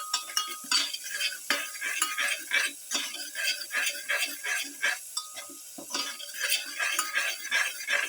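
A spoon stirs salted lamb and spinach stew in a pot, with rapid, repeated scraping and light metallic clinks at close range and no voices.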